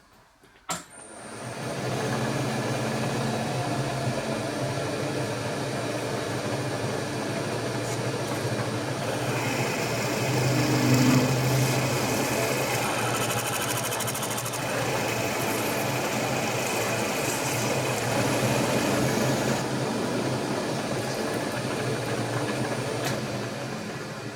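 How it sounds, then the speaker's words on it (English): A machine drilling and reaming holes in a slotter table for gib adjuster rods, a steady droning motor hum with metallic cutting noise, starting after a brief click and running continuously at moderate, even level. "I'm going to drill and ream these holes that are going to take the rod for doing the Gib adjusters"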